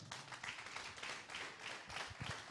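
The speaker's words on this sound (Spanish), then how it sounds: "Denle un aplauso al Señor." Crowd at a church service clapping and applauding steadily, a dense wash of hand claps that swells and continues throughout.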